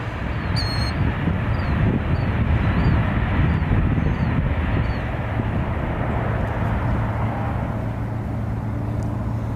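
A broad, steady jet roar rolls through at Nashville International Airport (BNA), loud and sustained with wind buffeting and faint chirps early on.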